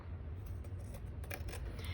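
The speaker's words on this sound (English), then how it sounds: "I literally just take my scissors, trim across to there." Scissors trimming the edge of paper on a handmade children's notebook, a quiet, close cutting rasp with a few faint snips over a steady low background hum.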